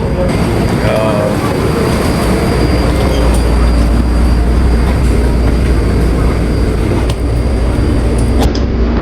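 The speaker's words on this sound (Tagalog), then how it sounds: "So na yung train, guys." A train arriving at a station in Taiwan, a loud continuous rumbling roar with low mechanical drone and occasional high squeals, steady throughout with a faint clank near the end.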